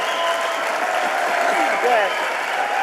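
An audience applauds at the world premiere of the Pagani Utopia in Italy: a dense, steady patter of clapping throughout. A voice speaks a short word over it.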